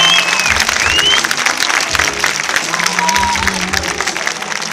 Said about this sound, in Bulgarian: Аплодисменти обаче за Диана Стоянова